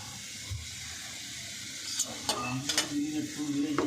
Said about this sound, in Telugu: ఆవాలు వేయాలి ఆవాలు బాగా వేగనుంచి కొంచెం పచ్చనిపప్పు వేయాలి